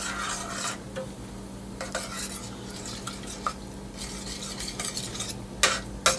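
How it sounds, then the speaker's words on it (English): A spoon stirring tomato paste into a pot of Khoresht Gheymeh stew, with scraping strokes against the pot and soft sizzling underneath, close and fairly quiet, occasional sharper clinks, no talking. "At this point, you need to add the tomato paste. And stir it till it's dissolved completely."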